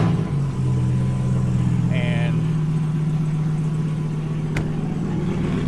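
A car engine warming up before a drive, holding a steady, moderately loud idle with a low hum and a slight rise in revs, close by; a voice briefly murmurs over it.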